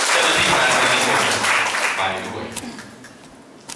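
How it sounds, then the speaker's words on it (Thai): Farewell applause from a group of staff at a workplace training session, steady broadband clapping that fills the room, with a voice speaking under it before the clapping thins out toward the end. "ขอเสียงปรบมือล่ำลาน้องป่าดิยาจากนอกครับ"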